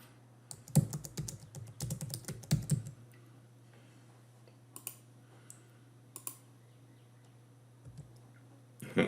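Typing on a computer keyboard in a quiet room, a quick burst of close key clicks over a steady low hum, then a few isolated taps and a final click.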